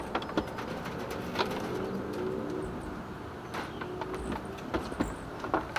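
Quail moving about in their pen, soft cooing calls with scattered light pecks and scratchy taps over a constant low background, close and fairly quiet with no talking.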